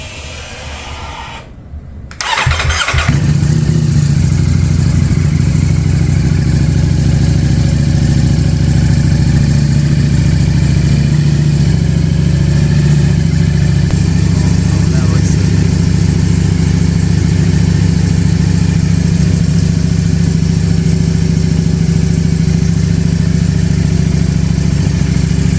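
Ducati Streetfighter V4 motorcycle idling close up with a clear clutch cover, the spinning clutch adding a steady rattle to a loud, even low engine drone that holds without revving after a brief start at the beginning.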